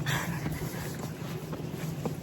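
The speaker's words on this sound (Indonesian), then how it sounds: "anginnya kenceng banget" Strong wind in Japan roars and buffets the microphone continuously, with a steady low rumble and gusty broadband rush throughout, loud and close, no voices.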